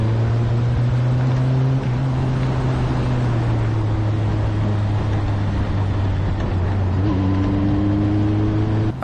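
A Formula 4 race car drives through a corner on a track, its engine a loud, close, steady drone that drops in pitch and then climbs again as it accelerates out of the bend, with nobody talking.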